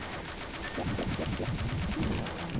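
Weapons fire in the video game Aegis Defenders as a rapid, rhythmic stream of shots over a dense, noisy battle mix, sustained and fairly loud throughout.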